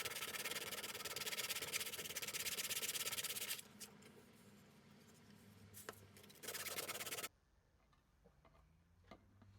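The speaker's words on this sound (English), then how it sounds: "I just use this scraping tool just to get those last little bits out and tidy it up" A handheld scraping tool rasps against the inside of a 3D printed Ghostbusters trap, clearing leftover burrs in a quick, close, gritty rubbing that comes in bursts and then drops to faint scratches.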